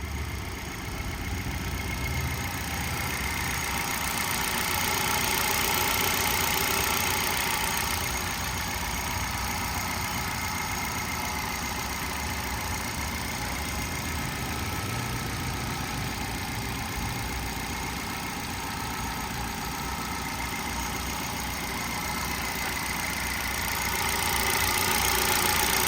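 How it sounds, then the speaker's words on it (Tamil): A Hyundai i10 Sportz 1.2 petrol hatchback engine idles steadily for a long stretch, an even mid-pitched hum with a faint knocking texture and no voices. "இந்த வண்டியோட இன்ஜின் சவுண்ட் எப்படி இருக்குன்றதை நம்மளுக்கு டைரெக்டாகவே நான் ரெக்கார்ட் பண்ணி காட்டுறேன்"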